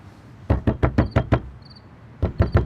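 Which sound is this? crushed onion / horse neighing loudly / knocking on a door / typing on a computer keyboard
knocking on a door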